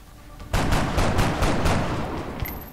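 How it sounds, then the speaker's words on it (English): A reaction shot in the video game XCOM: Enemy Unknown: a loud close burst of rapid automatic gunfire, several sharp reports in quick succession that fade into a short tail. "Reactive shot."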